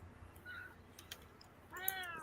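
A house cat meows near the mic, one short call early and a longer, louder, rising meow near the end, over a faint room hum.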